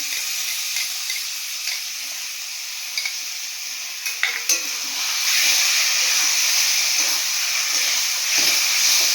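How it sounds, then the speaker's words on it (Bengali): Yogurt hits a hot pan for egg kofta curry and sizzles as a steady, close hiss, growing louder and denser partway through, with a few light clinks of stirring and no talk. "দইটা দিয়ে দেবো, দইটা দিয়ে দিলাম"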